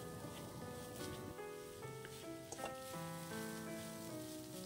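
Grated coconut heating in a pan gives a steady, soft crackling sizzle, close and even throughout, with no one speaking.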